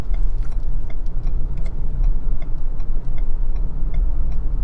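A Ford Explorer XLT cruising at highway speed, heard from inside as a loud, steady low road rumble and engine drone with faint ticking over it.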